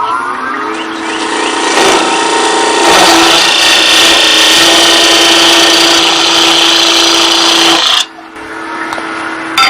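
Wood being cut on a lathe-type power tool for a wood-burning decoration, a loud steady whining drone that holds for about eight seconds before cutting out abruptly.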